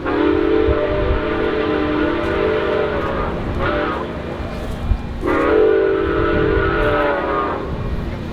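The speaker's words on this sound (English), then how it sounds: "the second one, the one you've been hearing in most of the video, is a Santa Fe whistle which was added because it sounded more pleasing." Santa Fe-style steam whistle on Milwaukee Road 261, a steam locomotive, sounding two long, loud sustained blasts with a short gap between them, over steady train rumble.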